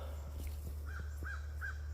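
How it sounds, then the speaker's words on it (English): A crow caws three times in quick succession, faint and distant, outdoors beside berry vines, over a steady low background hum. "I hear a crow."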